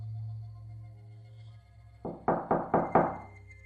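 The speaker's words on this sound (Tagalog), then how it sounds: "narinig ko ang nanay ko na kumatok sa pinto" Four sharp knocks on a wooden door come in a quick, evenly spaced run after a quiet stretch of low background hum.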